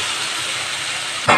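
Jackfruit pieces dropped into hot spiced oil in a pan, a steady loud hiss of sizzling that swells into a sharper burst of frying as the pieces hit the oil.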